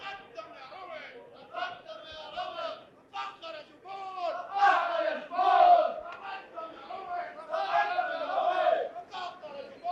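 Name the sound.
crowd chanting a battle cry in a radio drama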